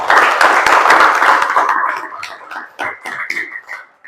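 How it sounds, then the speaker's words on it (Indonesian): Students clap in a classroom after a teaching practice lesson, a dense burst of applause that thins into a few scattered claps and fades out. "Ya, aplaus dulu."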